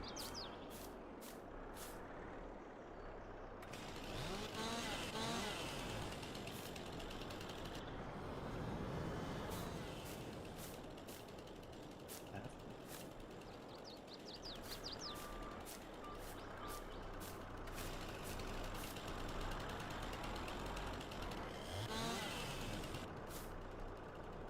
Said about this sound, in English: I remember now why I don't like driving the skid steer around